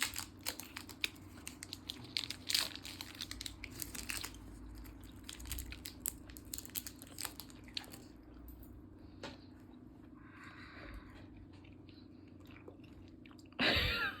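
Sour chewing gum is unwrapped and chewed up close, giving wet crunching and crinkling in irregular bursts that thin out toward the end, closing with a short loud rustle.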